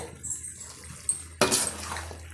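Pepper chicken with added water being stirred in a cooking pot, giving a short clatter of a utensil against metal and a wet scraping swish, close and fairly quiet with a stray clink just before.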